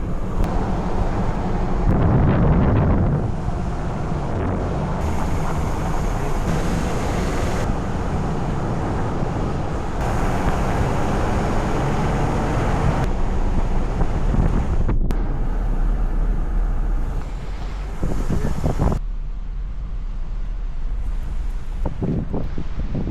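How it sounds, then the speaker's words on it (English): A Jeep driving through jungle on the northeast coast of Hawaii's Big Island, a continuous engine and road roar heavily buffeted by microphone wind noise, with gusty surges and no talk. "Driving a Jeep through the jungle, it's like I'm in Jurassic Park"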